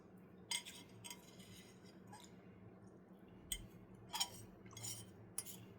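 A utensil scraping the bottom of a pot of cottage pie filling, with several faint, separate scrapes and clinks spread over a quiet background.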